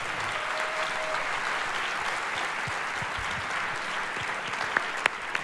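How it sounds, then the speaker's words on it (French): A studio audience at a French debate show applauds with soft, continuous clapping that sounds somewhat distant and low in level, with a few sharper claps near the end. "vous pouvez les applaudir s'il vous plaît"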